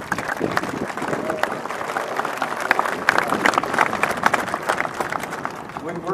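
Crowd applauding at an airborne reunion parade, scattered outdoor clapping that swells in the middle, with people talking over it.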